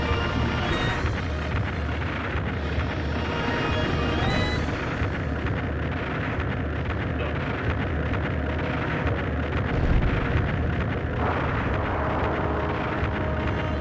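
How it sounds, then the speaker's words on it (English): Ship cannons fire in the Skies of Arcadia Legends video game during a battle, a dense, continuous roar of booming blasts and rumbling effects filling the clip at steady loudness with no talk. "That kind of damage is looking like the cannons are not worth the cost to fire."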